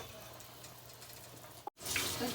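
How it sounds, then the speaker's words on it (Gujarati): Papdi beans and dhokli boiling in a cooking pot, a steady bubbling, churning wash that swells louder near the end after a brief cut, with no talk over it. "અત્યારે સરસ ઉકળી રહ્યું છે"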